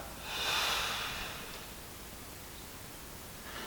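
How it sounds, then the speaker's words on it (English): A slow, audible breath exhaled after a held breath in a quiet yoga setting, a single soft airy rush that swells early and fades over a couple of seconds, close and alone. "Now audibly exhale."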